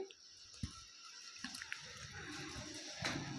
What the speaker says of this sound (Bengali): আমগুলোকে ভালো করে আমি ধুয়ে পরিষ্কার করে নিচ্ছি